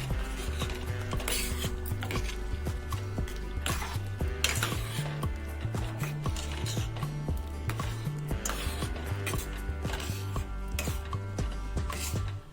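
A spoon scrapes and clinks steadily against a pot as a paste of fresh grated coconut and coriander is stirred into a thin, sweet-sour colocasia leaf curry, continuous and close beneath background music.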